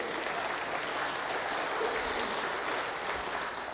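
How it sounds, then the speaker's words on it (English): A church congregation claps together through a Sunday sermon, a dense, steady wash of applause at moderate level that holds evenly from start to finish with no pauses. "Give yourselves a round of applause"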